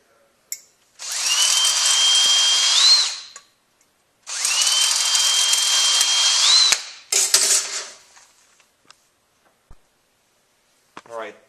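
A power drill bores holes in a transmission separator plate during a W4A33 shift kit install, running in two long bursts of about two and a half seconds each, then a shorter spurt. The pitch rises as each run ends.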